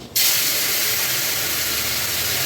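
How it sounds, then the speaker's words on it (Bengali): Small fish hit hot oil in a pan with a sudden burst, then settle into a loud, steady, close-up frying hiss that continues to the end. "যে কুচো মাছটা ভাজছি"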